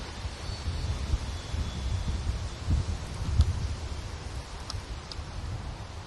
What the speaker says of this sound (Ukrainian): Але вітер.